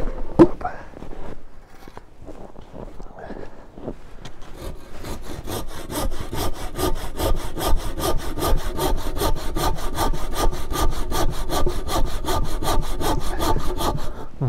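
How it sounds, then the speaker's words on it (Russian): A hand saw rasps through wood in fast, even strokes outdoors on a frosty winter day, loud and close, after a few scattered knocks and scrapes at the start. "Да, сейчас не зажимает, нормально пилит."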